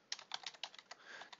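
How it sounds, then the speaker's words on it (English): Quick, light clicking of keys being typed on a computer keyboard, a short close burst of irregular taps. "So I'm going to go ahead and type background"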